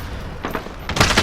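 MG34 light machine gun firing in a video game, a short rapid burst of loud automatic shots packed close together over about a second.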